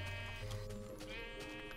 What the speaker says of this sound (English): You were a great sheep giving me three blocks.